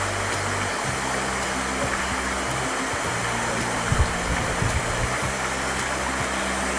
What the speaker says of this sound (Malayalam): ഇതാണ് ശരിക്കും ഞണ്ടരക്ക് വെള്ളച്ചാട്ടം